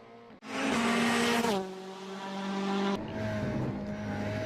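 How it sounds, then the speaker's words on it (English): Engine of the Vuzian Racing number 11 Volkswagen Beetle rallycross car at Lime Rock Park, heard onboard: a loud sustained roar climbing through the revs, an upshift, then more steady hard acceleration. "We're going to ride on board car number 11 for Vuzian Racing to give you a taste of Lime Rock"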